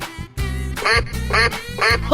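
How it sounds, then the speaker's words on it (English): Duck quacking in a children's animal-sounds cartoon, several loud, nasal quacks in quick succession with short gaps between them, close and clear with no talking. "Duck."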